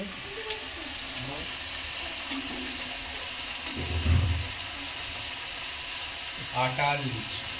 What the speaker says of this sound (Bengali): ফুলকো ফুলকো লুচি ভাজা হচ্ছে।